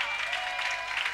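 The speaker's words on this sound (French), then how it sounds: "Acclamation." Audience applause at a church gathering, a dense, continuous patter of many hands clapping together with slight swells, heard on its own at moderate volume.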